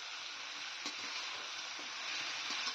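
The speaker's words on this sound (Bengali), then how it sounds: "মোটামুটি এগুলো দেওয়ার পরে কিছুক্ষণ ভেজে নিলাম" Cucumber and fruit pieces fry in a pan for a fruit chutney, giving a steady, close sizzle throughout with a few faint stirring clicks and no voices.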